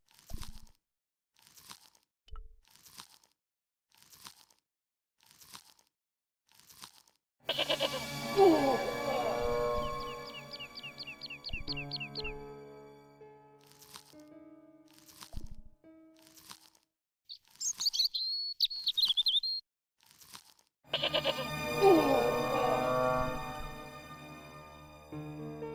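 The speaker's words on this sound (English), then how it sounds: "The rope by which the goat was tethered had become tangled on the old plowshare." A tethered goat bleats in the Broken Sword: Shadow of the Templars game on PS5, two short bleating bursts between sparse clicks and game effects, with a narrator's voice speaking between them.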